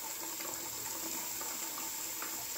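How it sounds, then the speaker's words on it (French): Tap water runs steadily as spinach is washed in very cold water at a sink, a constant close splashing stream with faint rustles of leaves in the water. "je vais laver encore mes épinards au moins 2 fois avec de l'eau très froide"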